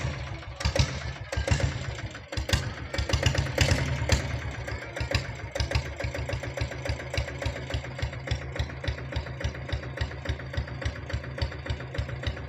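A restored old Royal Enfield Bullet, fresh from head work and an oil service, idles with its steady, even thumping beat, loud and close throughout.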